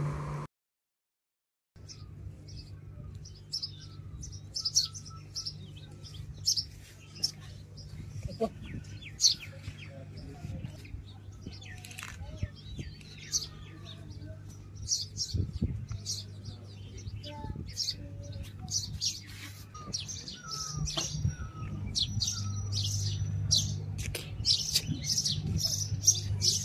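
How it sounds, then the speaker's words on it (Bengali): Birds chirp and call steadily in a quiet hillside spot near a large Hanuman statue, with many small tweets near and far over a faint low hum and no talk. "শুধু পাখির ডাক শোনা যাচ্ছে।"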